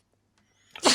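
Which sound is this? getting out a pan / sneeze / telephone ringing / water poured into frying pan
sneeze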